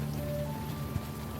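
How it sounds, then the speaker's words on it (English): Steady light rain at night on a Manhattan street at Astor Place in the game Unavowed, a soft even patter in the background with a faint hum and no voices. "Still raining."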